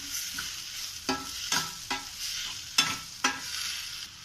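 Potatoes frying in a pan for potato masala: a soft, continuous sizzle with about half a dozen distinct scraping stirs of a spoon against the pan, spaced irregularly, with no voices.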